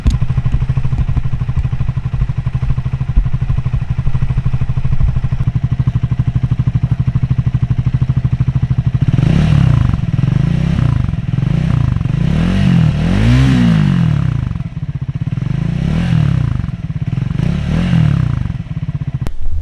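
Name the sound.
Triumph Scrambler 400 motorcycle exhaust note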